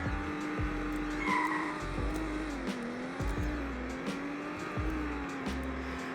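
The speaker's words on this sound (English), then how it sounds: "So here is a 0 to 60 test in the Toyota Supra." Toyota Supra in the Roblox game Greenville launching from 0 to 60, its synthetic engine note climbing through repeated gear shifts in a steady rising and dropping pattern, fairly quiet and with no talk.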